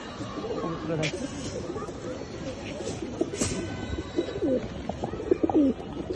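Racer pigeons coo softly in low, rolling calls close by while someone talks over them and other birds chatter in the background.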